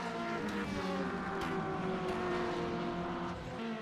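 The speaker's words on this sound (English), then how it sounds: "So you got an LMP behind you there." A race car on a track in a sim racing game holds a steady, high engine drone with stepped gear-change shifts and faint whooshing passes, moderately quiet, with no talk.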